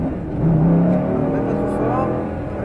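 A Lamborghini Gallardo Superleggera on a track accelerates with a steady, loud engine drone that rises slightly in pitch, close up, while an instructor speaks over it in French.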